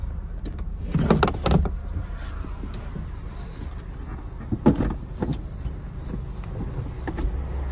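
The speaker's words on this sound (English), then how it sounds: "Seats also do fold pretty much completely flat. They flip up like that." Rear seats of a Kia Picanto 1.25 five-door hatchback being flipped and folded flat, giving a few soft thumps and clunks of seat backs and latches close by, with quiet gaps between and no talk.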